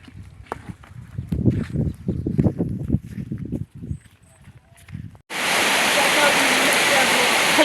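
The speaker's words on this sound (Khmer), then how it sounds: "ភ្លៀងខ្លាំងទៀតដែរបងប្អូន" Heavy rain pours down over rice fields, a loud, steady, close downpour that begins abruptly after a stretch of talking and continues alone to the end.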